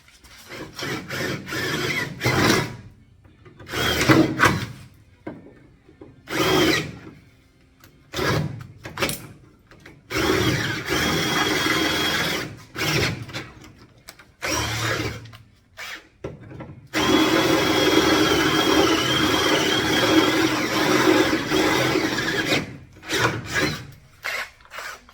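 Bursts of power drilling through a Datsun Z car floor panel, whining and grinding in short runs then a longer sustained stretch, close and fairly loud, separated by quiet pauses.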